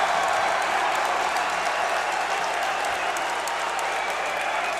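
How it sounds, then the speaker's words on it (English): Loud, steady crowd noise fills a high school basketball gym during a Dematha versus Paul VI game, with cheering and clapping sustained throughout and no break. "This crowd is getting loud."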